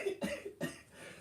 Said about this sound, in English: I'm not trying to cough up a fucking lung this morning